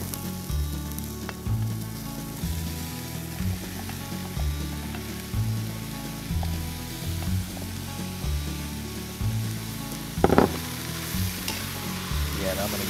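Diced potatoes frying in a pot with onions and celery for fish chowder, cooked outdoors on the ice: a steady soft sizzle with rhythmic stirring and scraping throughout, plus one brief clatter near the end.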